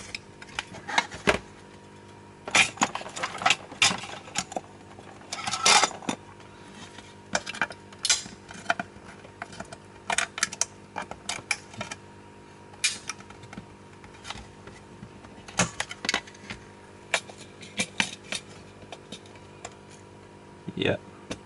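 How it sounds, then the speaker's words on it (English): A section of a plastic case is being cut away during an IKEA Ansluta and Powersafer hack, producing irregular scraping, snapping clicks and short rasps scattered close-up across the whole stretch. "I'll probably need to modify the case a tiny bit here, all the way to the end. So let's cut this out."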